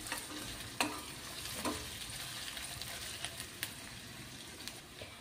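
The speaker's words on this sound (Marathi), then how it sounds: "तर इथे बघा व्यवस्थित या पद्धतीनं 1-5 मिनिट आपण कांदा मंद आचेवर परतून" Onion sautéing in a pan on low heat for a Maharashtrian matki rassa bhaji, a soft continuous sizzle with a few sharp spoon scrapes and taps spread through, fairly quiet and close.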